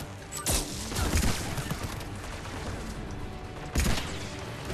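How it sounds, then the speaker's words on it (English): Gunfire in Mass Effect 3 rattles through a dense, continuous game-combat soundscape, with heavier booming bursts near the start and again near the end. "Stop shooting me!"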